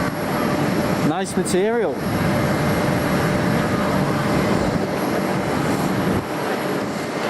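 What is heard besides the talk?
aircraft at Amsterdam Schiphol Airport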